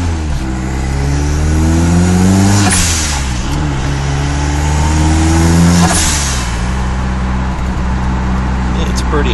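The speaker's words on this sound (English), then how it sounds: "this is the Toyota pickup running Trionic 5 with a turbo" Heard from inside the cabin, a turbocharged Toyota pickup with a 22RTE engine accelerates hard twice, its exhaust and turbo rising in pitch through each gear before dropping at the shift, loud and close.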